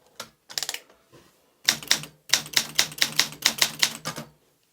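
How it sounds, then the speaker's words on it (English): Close, loud typing on an Olympia SM9 manual typewriter set to double spacing: a few scattered key strikes, then a steady run of about a dozen sharp, evenly spaced clacks. "I'll type a simple word. For a new line,"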